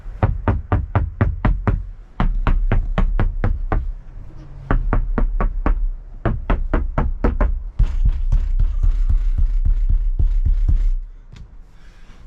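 Knocking on the reinforced roof of a 1999–2004 Jeep Grand Cherokee with the headliner removed, fast runs of loud, solid, dull thumps in several bursts with short pauses between them, close up and without speech.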